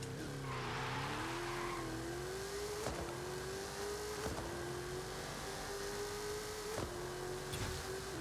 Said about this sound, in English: Okay, let's do a little burnout.